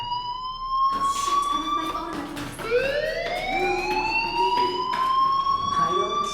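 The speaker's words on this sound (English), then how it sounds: "Hey, do you hear that fire alarm?" Wailing fire alarm inside the Life Is Strange video game, rising and falling in steady sweeping tones that sound loud and continuous through the whole stretch.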